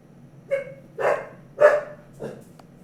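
Dogs barking indoors, four separate loud barks spaced about half a second apart, close to the microphone, with quiet background between them.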